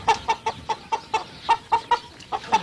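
Chickens clucking in the Bresse countryside, a steady run of short, close, distinct clucks repeating about every quarter second, heard alone without talk.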